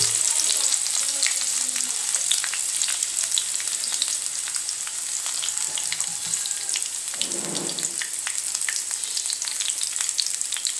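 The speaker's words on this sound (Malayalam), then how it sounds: "ഉള്ളി ഒന്ന് മൊരിയട്ടെ" Sliced onion sizzles steadily in hot oil with mustard seeds and a little fenugreek, a dense continuous crackle broken by sharp pops and a brief stir partway through, close and without any talk.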